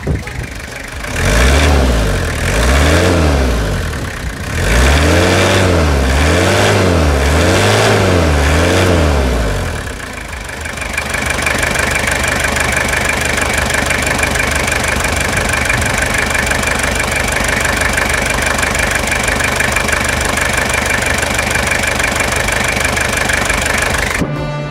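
Toyota Hilux SR engine after a revitalization service, revved hard in several rising and falling bursts over the first ten seconds, then settling into a steady, loud idle with a faint ticking knock for the rest of the clip.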